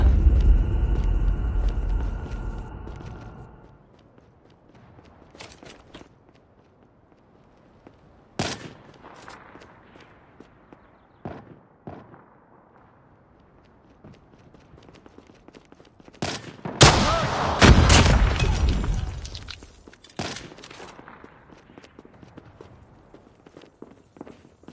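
Scattered gunfire in a firefight: a loud burst at the start, then sharp isolated shots and a heavier cluster of shots midway, with quieter rustling and footsteps between them.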